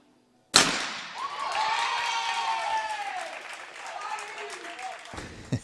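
A crowd at a mixed-team trap shooting final in Croatia erupts in sudden applause and cheering after a sharp crack, sustained for several seconds before cutting off abruptly.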